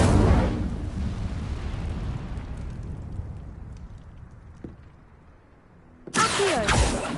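A fire spell cast in a Hogwarts wizarding video game, a loud roaring whoosh of flames that fades slowly over several seconds, followed by a sharp bright burst near the end.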